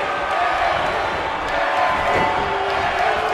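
A wrestling arena crowd roars steadily through a six-woman tornado tag match featuring Sasha Banks, a dense sustained wash of cheering and noise with no break.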